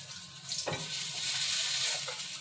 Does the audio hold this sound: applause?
no